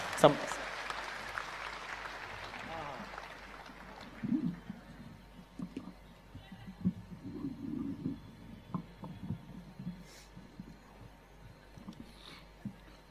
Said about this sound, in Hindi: जोरदार तालियों से आमंत्रित करें।